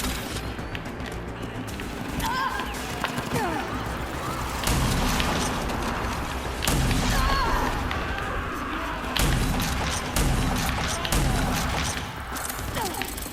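Shotgun blasts and explosions from the video game Rage 2 land as repeated loud, thudding bursts over a dense, busy battle soundscape, with talking faintly mixed in.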